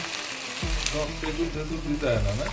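Mustard seeds, dried chilli and curry leaves tempering in hot oil, a close, steady sizzle with crackling pops and a soft low hum beneath, with a voice briefly audible.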